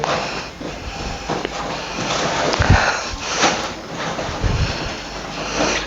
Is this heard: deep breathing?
yes